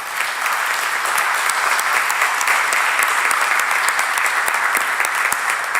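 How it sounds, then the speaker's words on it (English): Sustained applause from a roomful of people at a city Board of Aldermen meeting, a dense, steady patter of many hands clapping close by at even loudness for several seconds, with no talking. "A big round of applause for all of them."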